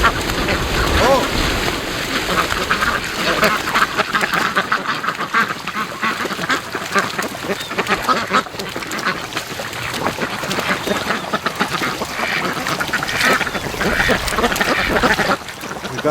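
Muscovy ducks quack at a lake, a busy, continuous chorus of calls that stays close and loud throughout.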